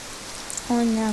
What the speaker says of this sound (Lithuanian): O ne, kaip čia taip lietus.